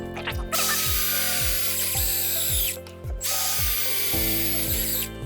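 Power drill driving fasteners through a metal connector plate into a timber beam end, with a loud, close whirring motor and rapid ratcheting clutch clicks that pause briefly between runs.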